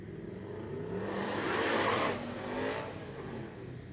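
A Hellcat drag race car at a street drag event in Brown County revs its engine, building to a loud roaring swell and then easing off, with crowd and track ambience behind it.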